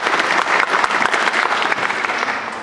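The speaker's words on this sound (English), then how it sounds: "you may applaud if you'd like, that's fine" Audience at an orchestra concert breaking into loud, sustained applause, a dense close wash of many hands clapping with no talk over it.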